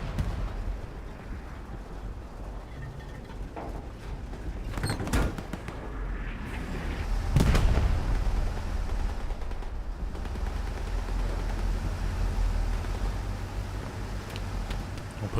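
A rocket strikes a Puma armored vehicle in Battlegrounds, a sharp blast at about seven seconds standing out against steady engine rumble and scattered distant gunfire, with a smaller bang a couple of seconds earlier.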